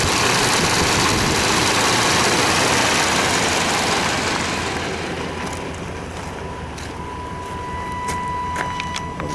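A 1998 Chevy Vortec engine, back on the road after ten years not running and with a radiator leak, idles loudly after restarting, its dense low rumble easing slightly and steadying midway, with some faint clicks and a thin whine later.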